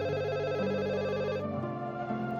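A telephone rings indoors with a warbling electronic trill, repeating tones that shift partway through, fairly clear and steady with no talk over it.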